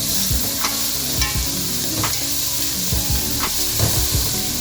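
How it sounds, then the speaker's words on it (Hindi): Onion, garlic, ginger and green chilli sizzle loudly in a pan while a spoon stirs through them, giving a constant close frying hiss broken by periodic scraping strokes. "इसको अच्छी तरह हिलाएंगे, मिक्स करेंगे।"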